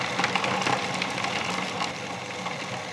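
Ice cream machine churning a frozen dessert mixture, a steady close mechanical whir with a dense grinding rattle that holds evenly throughout, no talking.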